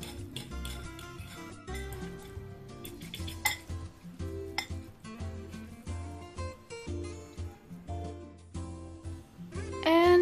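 Samyang curry buldak noodles being mixed in a dish with a fork and spoon, busy close clinking and scraping of metal on the bowl with sticky stirring sounds, continuous and fairly loud.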